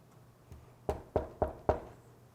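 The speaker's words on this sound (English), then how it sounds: "Shall I knock?" Four sharp knocks on a red door in a back alley, spaced evenly and fairly loud, preceded by one softer tap, with no talking.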